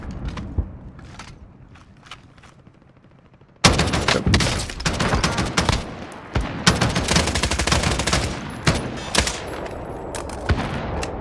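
Gunfire in the video game Call of Duty Warzone: after a quiet stretch with a few faint pops, loud sustained bursts of automatic fire and repeated shots break out and keep going.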